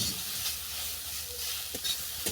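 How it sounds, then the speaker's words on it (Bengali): Grated radish frying in melted ghee makes a soft, quiet sizzle, with a few faint stirring clicks near the end. "মূলোটাকে আমি 5 মিনিট ধরে ভেজে নেব।"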